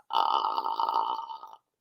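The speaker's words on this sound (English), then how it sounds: "So vocal fry sounds like this." A single creaky, crackling vocal fry from a nearby voice lasts about a second and a half, then stops into silence.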